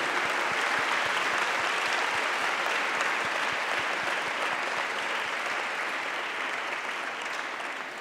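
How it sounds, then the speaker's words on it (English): Sustained applause from a large audience at a Bal Vikas alumni gathering honouring teachers, a dense even wash of clapping that stays loud throughout and tapers slightly at the end. "we should give a big round of applause for all your gurus"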